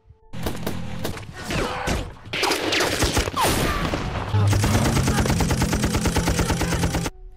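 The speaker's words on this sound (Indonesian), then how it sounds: "baku tembak harus terjadi" A shootout on Una-Una Island: bursts of rapid automatic gunfire and single shots crackle loud and close, building into a sustained dense volley of rattling shots with thuds mixed in.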